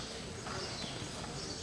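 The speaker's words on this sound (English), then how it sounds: "Trot your horses and into the lineup, please." Horses trotting on arena footing during a hunter open class show, giving a steady, soft clip-clop of hooves against constant background noise and faint crowd or announcer murmur.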